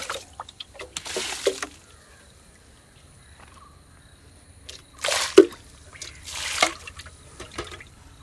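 Homemade liquid leaf fertilizer poured at the base of a dragon fruit plant in a home garden, a few short wet splashing bursts separated by quiet pauses, close and moderately loud.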